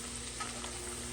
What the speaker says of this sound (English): Let that garlic cook.